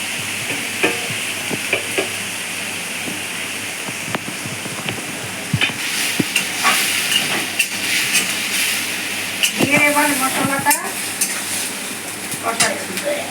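Cumin, coriander, dried chili and Kashmiri chili powders sizzle steadily in hot oil for a katla kalia, while a utensil scrapes and stirs with repeated metallic clinks and scratches close by.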